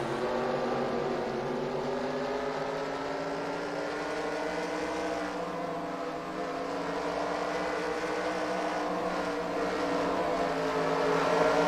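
Race cars at Eldora Speedway roll toward the green flag to start a 100-lap feature, their engines a steady, continuous drone with gradually shifting pitch, building slightly louder near the end.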